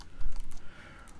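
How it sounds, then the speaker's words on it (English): Keystrokes on a computer keyboard, a brief burst of soft clicks close up over about a second, quiet and alone with no talk. "I can begin by coming back here and typing in Telerik"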